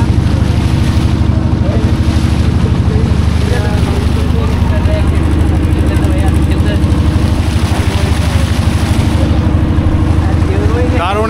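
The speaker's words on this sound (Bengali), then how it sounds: "এই যে আরেকটা নৌকা।" A wooden boat's engine drones loudly and steadily on Patul lake in Natore, a low throbbing hum that never lets up, with wind buffeting the microphone.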